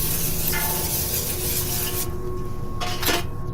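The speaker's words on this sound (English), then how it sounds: "we're going to spray down our pan with some cooking spray" Cooking spray hissing onto a pan in a kitchen, a steady close aerosol spray that breaks off partway, followed by a shorter burst.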